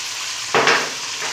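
Tomatoes tipped into a hot pan of golden-fried chicken for chicken gobi gosht set off a sudden loud sizzle that swells, then settles into a steady close frying hiss.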